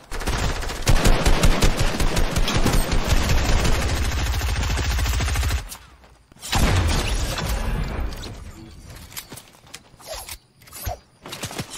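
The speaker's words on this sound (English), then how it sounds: "Wait, who's shooting?" Rapid automatic gunfire rattles in Fortnite Chapter 2 Season 1 gameplay, loud close bursts for several seconds, a brief pause, then more scattered shots and impacts.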